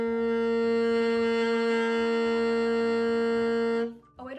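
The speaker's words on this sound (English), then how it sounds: "Growling is a technique you can use on saxophone to make notes sound rough" Alto saxophone note played with a growl, the player humming into the horn so a rough buzzing edge rides on a steady sustained tone for nearly four seconds before cutting off abruptly.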